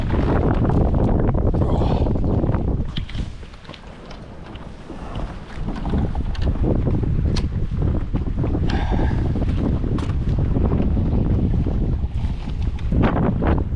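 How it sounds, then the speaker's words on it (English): Strong wind roars and buffets the microphone nonstop, with water sloshing around a kayak on a creek underneath; loud and close throughout, briefly easing midway. "I think I'm ending it because it is just way too windy."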